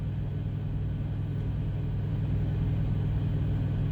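An old auxiliary power unit with a replacement motor runs on Eagle One, giving a constant, close, low droning rumble with a steady hum and no change over the few seconds.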